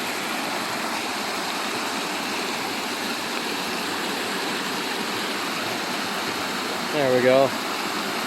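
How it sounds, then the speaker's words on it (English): River rapids on the Black River rushing steadily, a constant broadband roar of churning water close by, with a brief spoken remark near the end. "Let's have a look at the rapids here"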